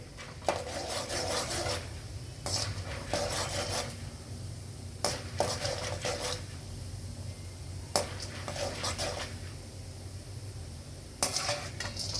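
A spoon scrapes and stirs split gram dry-roasting in a pan, in repeated bursts of rasping metal-on-metal strokes separated by short pauses, close and fairly quiet, with no talking.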